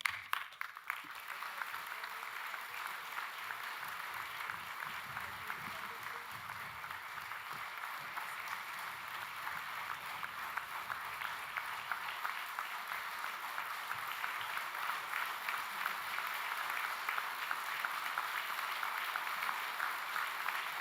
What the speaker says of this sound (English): some really nice applause